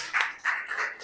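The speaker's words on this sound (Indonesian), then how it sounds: "Tepuk tangan buat kalian." A classroom group of students gives a brief round of clapping during a practice teaching lesson: three soft, rhythmic bursts of hand claps close together, with no voices.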